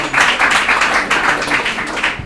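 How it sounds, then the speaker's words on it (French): Audience at a school quiz show applauding two competing high school teams, brisk continuous clapping from a crowd, close and loud with no talk over it. "on les applaudit"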